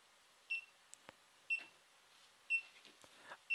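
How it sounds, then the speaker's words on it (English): A GoPro HD Hero 3 Black Edition sounds its locate beep: short, high electronic beeps repeating about once per second in a quiet room, with faint clicks between them. "press the locate button. And that beep will lead you to"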